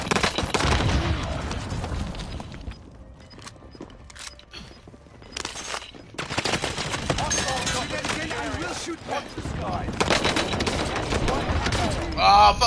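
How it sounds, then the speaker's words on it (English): Explosive rocket-launcher blasts and bursts of gunfire from a first-person shooter video game, dense loud volleys with a quieter lull in the middle before another heavy barrage. "Oh, the fucking rocket launcher."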